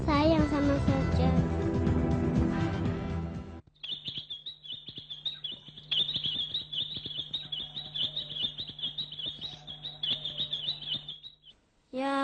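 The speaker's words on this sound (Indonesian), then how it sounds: "Ayo burung manis, diam dulu ya." Small birds chirp and tweet in a steady, fairly close stream of high calls, following a burst of louder mixed sound at the start.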